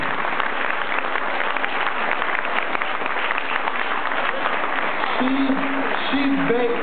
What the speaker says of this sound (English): Give her a round of applause, first of all.